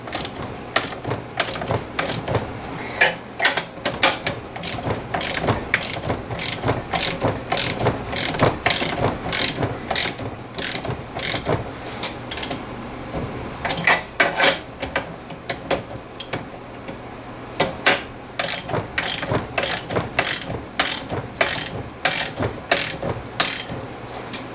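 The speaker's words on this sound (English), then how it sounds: "So I'm just going to tighten these bolts up here." A ratchet tightens bolts on a bearing separator clamped between a pinion and its bearing race during an ARB air locker install, a close, loud run of rapid clicking strokes in bursts with short pauses.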